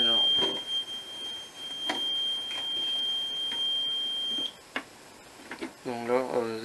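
A fire alarm panel's steady high-pitched alarm tone sounds continuously for several seconds, then cuts off, followed by scattered clicks and a voice starting to speak.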